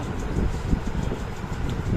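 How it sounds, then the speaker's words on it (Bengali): A steady, broadband whooshing hum of a running electric fan, close and continuous, with no voices. "ফ্যানের হাওয়া ফ্যানের আওয়াজ বুঝেছো এটা যে আওয়াজটা পাচ্ছে"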